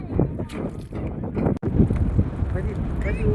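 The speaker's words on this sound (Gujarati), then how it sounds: "પવન થોડો વધારે જો." Strong gusty wind rushes across the microphone at the seaside Nishkalank Mahadev temple near Koliyak, where sea spray is blowing, a steady rough roar mixed with voices talking throughout.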